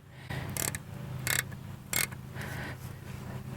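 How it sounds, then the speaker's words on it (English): A ratcheting wrench on a Jooleser RV wheel stabilizer clicks in three sharp bursts while tightening, over a low steady hum. It is close and fairly loud, with no talking. "there's a little button here, you just click to tighten it up or loosen it"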